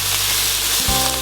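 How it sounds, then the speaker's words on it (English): Burgers sizzle loudly as they brown in a hot pan, a steady close crackling hiss with no talking. "we're gonna brown the sides of the burgers nice and hot"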